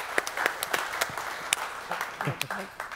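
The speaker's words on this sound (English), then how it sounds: "Round of applause for all our finalists and all our semifinalists in New Beverage Showdown." Scattered applause and individual claps from an audience at a beverage competition showdown, sharp irregular hand claps under nearby chatter and talking voices.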